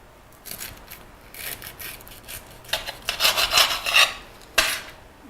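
A knife cuts through quartered purple and green cabbage, making a run of crisp, crunchy, rasping strokes that thicken into a rapid cluster near the middle, then one final firm cut. The chopping is close and moderately loud.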